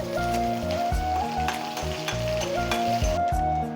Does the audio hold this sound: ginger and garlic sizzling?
yes